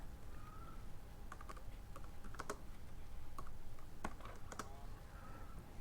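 Keystrokes on a computer keyboard while a CSS list file is being written, coming as bursts of close, crisp clicks with short pauses over a steady low background hum. No one speaks.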